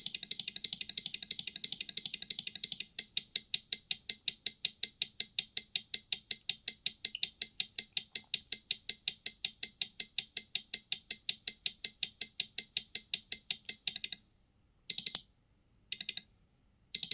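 Heavy relay on a 12V/24V two-channel name board flasher clicking in a fast, steady, sharp rhythm, close and crisp, breaking into a few irregular pauses and isolated clicks near the end, no speech.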